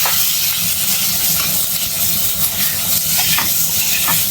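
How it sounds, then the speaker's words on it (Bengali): Pumpkin pieces fry in a little oil with turmeric for a Bengali village curry, a steady close sizzle that holds loud and even throughout, with a few faint utensil scrapes and no voices. "কুমড়োটাকে আমি ভালো করে ভেজে নেব"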